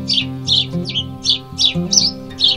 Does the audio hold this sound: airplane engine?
no